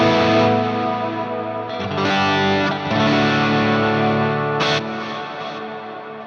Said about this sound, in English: So if I go over to Stratocumulus, you'll see this is a very, very particular style of reverb.